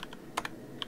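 Quick taps on a computer keyboard, a few light keystrokes scattered over under a second, soft and close with no talking.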